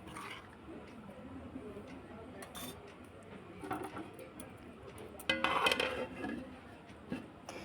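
Mango pickle (aam ka achar) is stirred in a pan, producing irregular scraping and clinking of a spoon against metal that grows louder and busier partway through, with a faint voice in the background.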